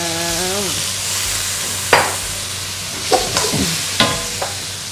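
Stir-fried rice vermicelli with water mimosa in a hot pan as water goes in, a loud steady sizzle with several sharp scrapes and clacks of a spatula and no voices.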